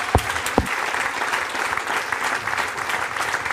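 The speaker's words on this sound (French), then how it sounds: "Merci de l'applaudir." Crowd applause fills a theatre awards ceremony, steady and full throughout, with a couple of sharp low thumps near the start.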